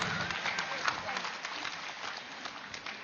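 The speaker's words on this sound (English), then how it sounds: "Let us give a big round of applause for the team" A crowd applauding a tech team at a live wisdom session, steady even clapping from many hands at moderate volume, slightly distant and continuous.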